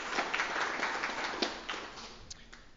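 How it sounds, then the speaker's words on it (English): Brief, faint applause from a workshop audience for a presenter at a tribal self-governance event, soft patter that thins out toward the end. "Can we give George a round of applause?"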